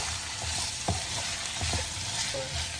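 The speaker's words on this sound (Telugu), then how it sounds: "కొంచెం ఆయిల్ ఎక్కువ తీసుకొని బాగా ఫ్రై అయ్యేటట్టు చూసుకోండి" Ivy gourd pieces frying in a generous amount of oil in a pan, a steady sizzle broken by several scraping stir strokes from a spatula, close and continuous with no talking.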